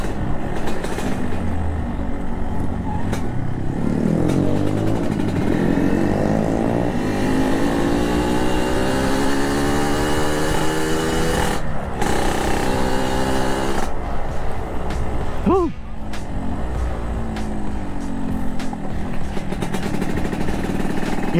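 A Yamaha RX King motorcycle being ridden, its two-stroke engine droning steadily and loud throughout with rising and falling revs and a brief dip near the middle, plus wind rush.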